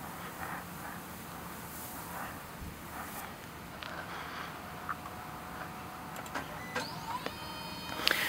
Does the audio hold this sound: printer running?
yes